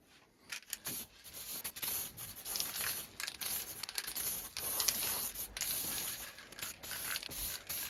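Aerosol black spray paint hisses onto a PlayStation 1 top case in repeated close bursts of a few seconds each, separated by short pauses.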